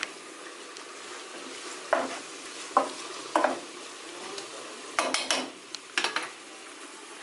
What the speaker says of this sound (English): So I'm going to let this saute a little bit.